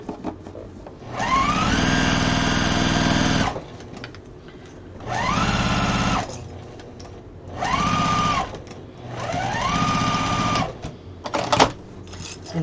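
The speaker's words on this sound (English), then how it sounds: "Sew this up and then you'll sew your long side up." A sewing machine stitches the long sides of a quilted wall hanging in four close, loud bursts of rapid whirring, each speeding up and holding steady before stopping, with short quiet gaps between runs.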